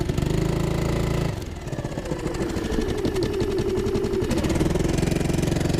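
A Honda 2.3 HP outboard motor on a Pelican Bass Raider boat runs steadily after starting, a close, buzzy small-engine drone with a brief dip and rise in pitch partway through.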